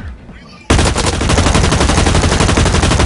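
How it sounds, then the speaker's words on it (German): Loud, dense automatic gunfire in the shooter game Blacklight Retribution bursts in suddenly after a quieter moment and runs continuously at a fast, even rhythm. "Oh, hier wird schon geschossen."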